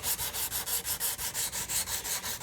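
Steady back-and-forth hand sanding of a banjo fretboard on a Vega Tubaphone tenor conversion, an even rhythm of about five rasping strokes per second, close and continuous, with no talking.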